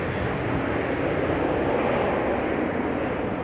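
Arriving airliners at Charlotte Douglas International Airport make a loud, continuous broadband jet roar that holds steady throughout, with no voices over it.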